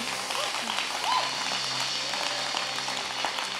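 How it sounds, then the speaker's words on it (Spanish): Steady applause from a church congregation fills the space, a continuous wash of clapping with a few faint voices mixed in. "Le podemos dar un fuerte aplauso a Jesucristo por eso."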